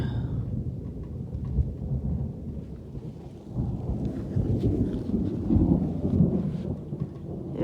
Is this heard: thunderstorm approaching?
yes